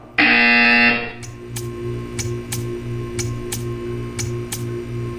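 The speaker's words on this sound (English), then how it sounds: "When you hear the buzzer, stare at the art." A loud sustained buzzer tone in the Portal 2 video game sounds for about a second, then stops, leaving a steady low hum with a string of sharp, evenly spaced ticks.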